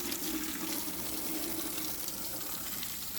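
Water rinsing over the engine bay of a 1992 GMC Yukon 4x4 5-speed TBI by hand, a steady soft hissing splash that runs continuously at moderate volume.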